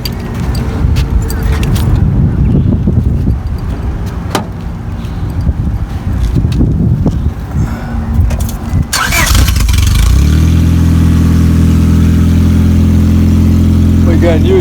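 A 1998-2002 Honda Accord 2.3L four-cylinder with its catalytic converter stolen cranks and fires up, then runs with a loud, droning, exhaust-heavy roar close by after a stretch of workshop clatter and talk.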